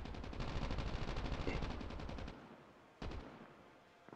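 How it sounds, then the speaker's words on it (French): A rapid, dense volley of Call of Duty battle royale gunfire rattles for about two seconds, then a single loud shot follows after a short pause. "J'entends des coups de feu."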